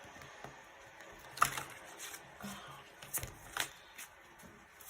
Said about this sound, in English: So I'm just gonna randomly shuffle from my deck here.